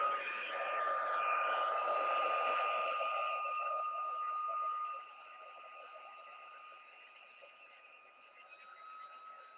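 Heat gun heating embossing powder on a card, a steady close blowing whir with a tonal whine that drops to a softer level partway through.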